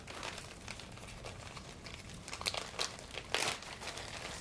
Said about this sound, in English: Then put it in a plastic bag.